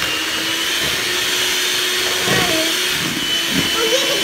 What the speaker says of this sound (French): Et là, on continue de fouetter.